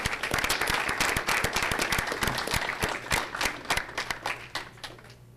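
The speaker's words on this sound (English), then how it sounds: "Let's give them another round of applause" An audience at a school board meeting applauds high school students and coaches, sharp individual claps standing out from a broad round of clapping that gradually thins toward the end.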